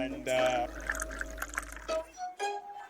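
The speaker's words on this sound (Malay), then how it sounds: "Masukkan straw dan tuang selebihnya ke dalam gelas." Vegetable juice poured into a drinking glass, a steady liquid stream running for a couple of seconds and fading as it ends, with background sounds around it.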